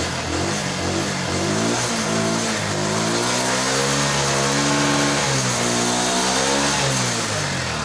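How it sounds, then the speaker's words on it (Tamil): A TVS XL 100 BS6 moped engine with an EOT sensor fault revs loud and close, its droning note climbing and falling through several throttle swells over a steady running base. "இப்போ வந்து நம்ம ரேஸ் பண்ணி பார்க்கலாம்."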